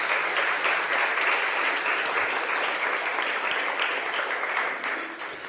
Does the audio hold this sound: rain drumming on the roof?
no